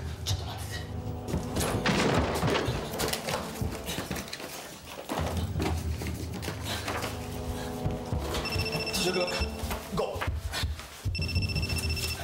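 A telephone rings in a Japanese horror film scene, with a repeating electronic trill that comes through in bursts over a dense background of other sounds and speech.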